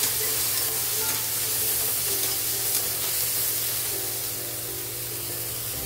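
Bitter gourd frying with onion, tomato, chilli and salt hisses in a steady, dense sizzle while being stirred, close and continuous with faint scraping throughout.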